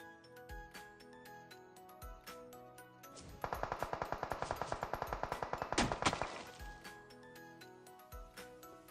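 Rapid automatic gunfire in the mobile game PUBG Mobile: a sustained burst of fast, evenly spaced shots lasting a few seconds, loud against a backdrop of repeated clicks and game sounds, with no talking.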